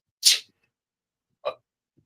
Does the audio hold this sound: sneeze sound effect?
yes